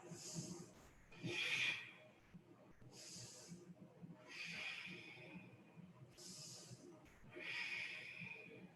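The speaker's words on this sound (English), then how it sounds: "Take a big, deep breath and fill up your low back with breath." Slow, deep breaths drawn in and let out during a yoga session, soft airy inhales and exhales in a steady rhythm, close and quiet with no talking.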